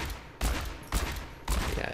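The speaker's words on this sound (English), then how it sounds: "Peacekeeper, accurate, powerful revolver, wildly fire" Three sharp gunshots from the Peacekeeper revolver in the video game Overwatch ring out in quick succession, each loud and close with a short decaying tail.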